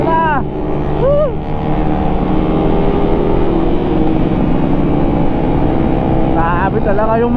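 A motorcycle engine drones loudly and continuously while riding near Bolinao, Pangasinan, with wind buffeting throughout and brief whoops of voices over the engine.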